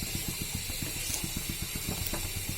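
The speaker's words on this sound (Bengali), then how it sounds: "এবার এটাকে উল্টিয়ে পাল্টিয়ে কষিয়ে নিব। আমি আলু কষাচ্ছি।" Potatoes frying and being stirred in a hot pan while cooking a Bengali curry with pabda fish and thankuni leaves, a steady hiss with quick rhythmic scraping taps of a spatula, close and moderately quiet.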